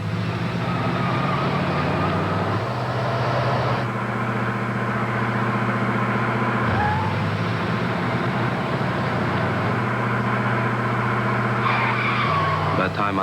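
A car engine revs hard and climbs steadily toward about 80 miles an hour, its loud sustained roar stepping up through several gear changes, with steady road and wind noise.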